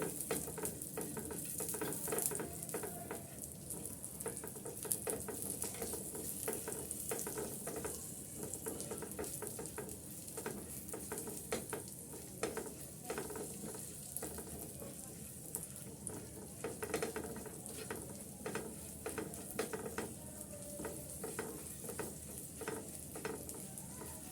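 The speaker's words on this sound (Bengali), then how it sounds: "কিছুটা কাজু বাদাম আর কিছুটা কাঠবাদাম কয়েকটা কিশমিশ আমি একটু ভেজে নিচ্ছি" Cashews, almonds and raisins frying in ghee in a pan for a bread payesh: a continuous, fairly quiet sizzle and hiss with frequent stirring scrapes throughout, no voices.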